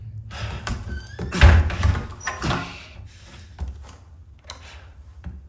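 Heavy thunks and a sliding clatter of a door being opened in the Resident Evil Chainsaw Demo, several solid knocks and scrapes over about five seconds, fairly close and prominent, with only faint voice in the background.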